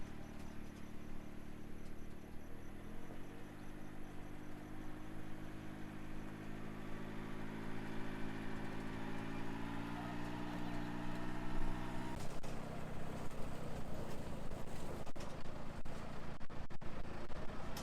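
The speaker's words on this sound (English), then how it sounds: "No trip to Bear Valley Farm would be complete without a wagon ride." A vehicle engine hauling a farm wagon on a farm tour hums steadily at mid pitch. Its tone shifts partway through, then gives way to rougher, rumbling movement noise.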